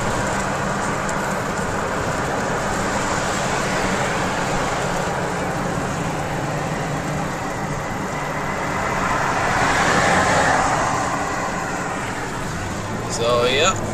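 A rat rod car rolls past outdoors in the Midwest, its engine a steady rumbling drone that swells as it nears and then recedes, with a brief clatter at the end.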